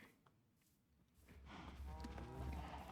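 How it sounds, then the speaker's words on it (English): Several cows mooing in the Minecraft video game, their calls swelling louder and overlapping in the second half after a quieter start, with no talking. "all the cows are causing a little bit of lag"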